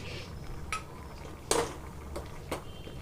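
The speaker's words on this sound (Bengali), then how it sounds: "এরপর খুন্তি দিয়ে আমি আলু এবং পোস্ত ভালো করে মিশিয়ে নিচ্ছি" A metal spatula scrapes and clinks in a pan while mixing potatoes with poppy seed paste and green chillies, a few sharp separate taps and scrapes over a soft background hum.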